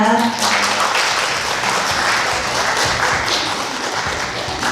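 Sustained applause from a conference audience at a webtoon festival in Busan, a dense, steady wash of many hands clapping throughout, fairly loud with faint voices underneath.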